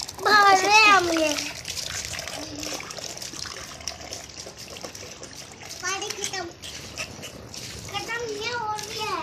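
Water runs from a tap fed by an electric water pump in a steady trickling flow beneath a child's chatter and other voices.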